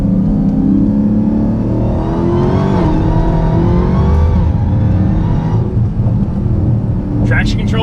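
A Dodge Hellcat accelerates hard on a road just past the Mexican border, its engine roaring loud and close in a long, sustained rising pull, with voices talking over it.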